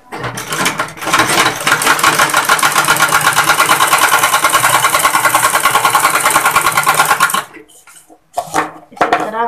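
A sewing machine stitches lace around the neckline of a suit with a loud, fast, steady mechanical whir for about seven seconds, then stops, and a few short bursts of stitching follow.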